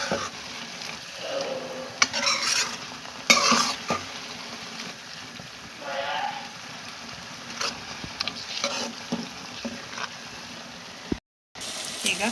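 Food frying and being stirred in a pan, with a low background sizzle broken by intermittent scraping and clinking of the utensil against the pan, close by and without talk.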